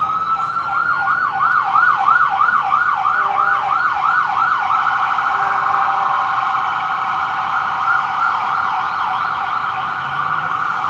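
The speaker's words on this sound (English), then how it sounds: "there's got to be like a siren of some sort going past here. That's an ambulance probably." A wailing ambulance siren rises and falls rapidly at first, then shifts to a slower sweeping tone, loud and steady as it passes nearby.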